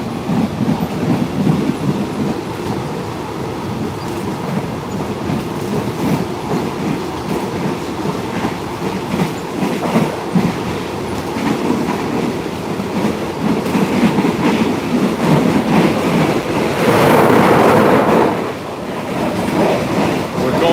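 A train rolls steadily along the tracks as heard from inside an open cattle car, with continuous rumble, clattering wheels and rushing wind, swelling louder for a stretch near the end.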